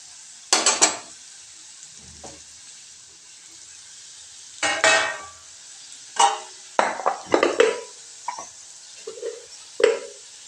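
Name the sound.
stir-frying carrot vegetable with garam masala in pan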